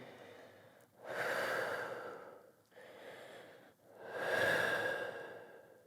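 Two long, audible exhalations during a leg-stretching exercise, each a breathy rushing sound rising and fading, separated by a quieter inhale, close to the microphone.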